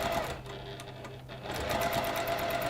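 A sewing machine runs steadily, stitching a quarter-inch seam through layered fabric, with a brief dip in speed midway before picking up again, close and continuous with no talking.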